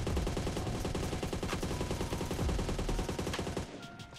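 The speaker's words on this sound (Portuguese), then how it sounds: "Esse aqui foi o tiro com a AUG" AUG rifle fire in PUBG Mobile, a rapid sustained automatic burst of loud, evenly spaced shots that stops abruptly near the end, leaving a short ringing tail.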